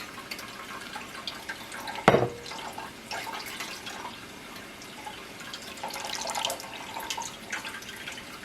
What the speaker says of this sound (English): we're going to add our juice in here. And I am straining it because this is a jelly.